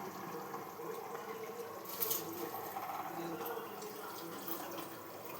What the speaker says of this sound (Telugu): వాటర్ మరుగుతున్నాయి. ఇప్పుడు రైస్ వేసుకున్నాం.